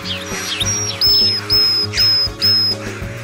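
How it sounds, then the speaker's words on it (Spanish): Birds singing in an aviary in the video game Planet Zoo: repeated bright chirps and whistles in short bursts, fairly close, over a steady low rhythmic background. "en el que ahora podrán oír a las aves cantar"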